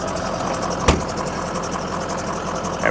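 A 2004 Ford Excursion Limited 4WD with a 6.0L Powerstroke diesel, fitted with head studs, gives off a steady, close engine rumble with one brief thump just before the first second and no talking.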